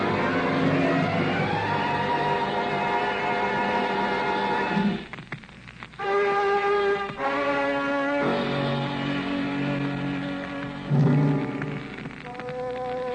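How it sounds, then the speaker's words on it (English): A radio drama sound effect of a flashy convertible skidding on gravel and sliding sideways toward a cliff, with a loud, sustained engine whine that shifts pitch and cuts out briefly before roaring back, close and continuous. "The car skidded on gravel and slid sideways toward the cliff."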